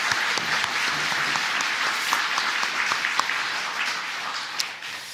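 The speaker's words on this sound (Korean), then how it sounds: "우리 감사와 하나님께 영광을 담아서 큰 박수로" A church congregation gives a big round of applause after a chamber ensemble's performance, dense, sustained clapping filling the hall with a few sharper claps standing out.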